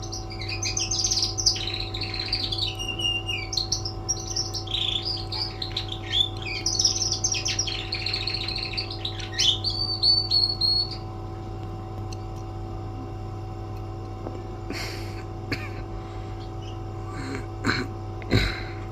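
A lone bird singing by itself, with bursts of varied high chirps and warbles for about ten seconds, then a few scattered ticks over a steady low hum.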